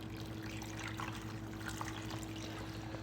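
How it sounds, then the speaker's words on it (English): Water pours into a pressure cooker pot holding oxtails, a continuous trickling stream close to the microphone over a steady background hum, with no talking. "I'm gonna add water."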